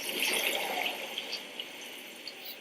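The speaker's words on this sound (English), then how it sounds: "Glass shatters on the lower levels, allowing water to gush inside." Water gushing inside a skyscraper through glass shattered by a typhoon, a loud continuous hissing rush that eases slightly, with faint scattered drips and splashes and no voices.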